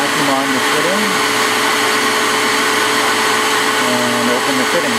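A shop vacuum held on a boat's V-drive fitting during winterization, sucking water out with a loud, steady whining roar that runs continuously and close, without any break.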